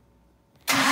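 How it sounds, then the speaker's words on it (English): A decades-dormant Series 1 Jaguar E-Type catches and fires abruptly after a quiet stretch, its engine bursting into a loud, sustained roar close by. "Turn the ignition switch, then the black button to the left right there"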